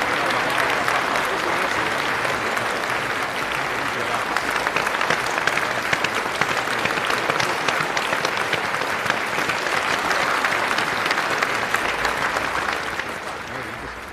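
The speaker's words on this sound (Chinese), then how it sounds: "让我们以热烈的掌声" Sustained audience applause fills a formal auction room, a dense steady clapping from a large crowd that holds loud throughout before tapering slightly at the end.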